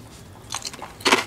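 Someone eating crunchy food gives two short bursts of crisp bites and chewing, the second louder and closer, in an otherwise quiet room with no talking.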